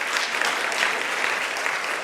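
A lecture audience claps for the University of Limpopo Vice Chancellor as he comes to the stage, loud dense applause, steady and close.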